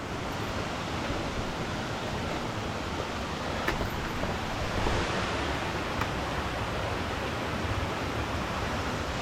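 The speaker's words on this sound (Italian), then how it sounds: "siamo alle cascate del Pissandro" Pissandro falls, a waterfall on a woodland trail, makes a steady, dense roar of falling water that stays even and close throughout, with no voices.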